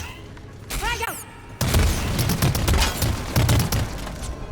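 Grenade blast and gunfire in the video game Lemnis Gate: a whooshing, warbling effect, then a heavy boom followed by sustained rattling bursts of gunfire, loud and dense, with a voice briefly over it.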